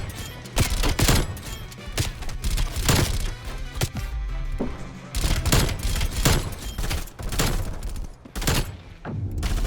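The CARV.2 burst rifle in a shooting video game fires repeated quick bursts of sharp gunshots, loud and close, spaced by brief pauses across the stretch.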